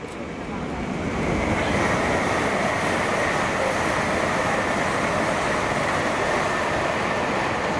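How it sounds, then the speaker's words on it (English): A train passes on a mainline railway near Welwyn Garden City, a loud, steady rumbling roar that swells in after the first second and holds strong to the end. "Oh wait, there's a train."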